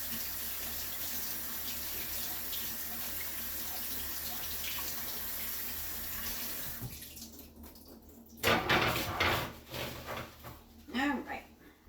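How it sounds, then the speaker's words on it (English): Canned chickpeas rinsed under a running kitchen tap: a steady rush of water streams for several seconds, then stops and gives way to louder clattering and handling noises, as if draining and shaking the can. "Rinse them and drain them."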